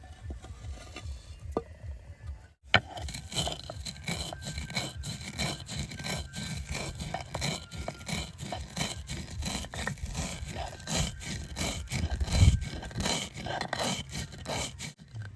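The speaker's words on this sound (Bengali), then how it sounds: "শুকনা পাতার মধ্যে এই বাজা মশলাটা অল্প গুঁড়া করে নেব।" Roasted spices being crushed into powder inside dried leaves for a coriander leaf pickle, heard as close, rhythmic grinding and scraping strokes repeating steadily after a brief quiet start.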